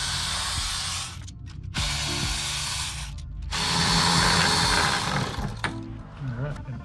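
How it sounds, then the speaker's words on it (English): Ratchet turning valve cover bolts loose on a 2004-2010 Porsche Cayenne V6 during a gasket replacement, close bursts of rapid clicking separated by brief pauses, with a few soft mechanical knocks. "We're going to remove all these bolts."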